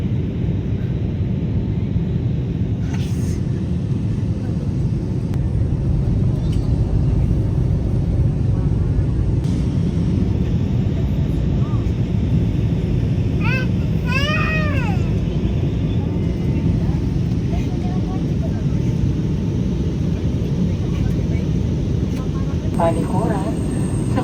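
Cabin of an airliner descending on a flight from Manila to Boracay, a loud steady low engine rumble filling the space, with brief faint chirps and tones over it and soft voices.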